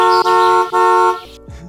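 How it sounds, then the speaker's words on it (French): A car horn sound effect: two short loud honks followed by a longer sustained blast that cuts off abruptly, close and alone with no talk. "tu fais un bruit de klaxon?"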